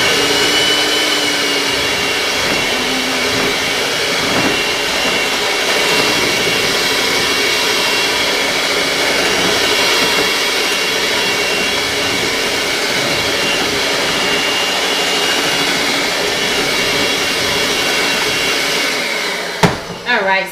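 An electric mixer whirs continuously through pineapple upside-down cake batter, a loud steady motor drone that holds for about twenty seconds before a brief clatter at the end.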